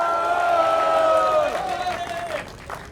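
A rally crowd at a protest kickoff event in Gwangju applauds and cheers in a loud, dense burst beneath a speaker's amplified voice. The applause fades toward the end.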